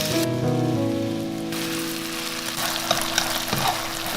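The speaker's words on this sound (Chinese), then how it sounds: "快速翻炒" Beef frying in plenty of hot oil in a wok, a dense, loud crackling sizzle that swells as the meat hits the oil and keeps hissing steadily, with faint stirring scrapes.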